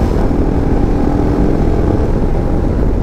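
Royal Enfield Himalayan, 2022 model, steady engine drone while riding, loud and continuous with wind rumble, no talk over it.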